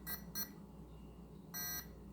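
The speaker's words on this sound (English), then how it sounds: "So it did do 3 beeps," An ECX Torment RC car's electronic speed controller, powered by a 3S LiPo battery, emits three short electronic startup beeps: two quick tones close together, a pause, then a longer one, faint over a low hum.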